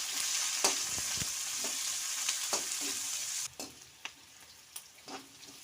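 Sliced onions sizzle steadily in a hot pan for rava-and-field-bean upma, with occasional taps of a spatula, and the hiss drops noticeably partway through as the frying quietens.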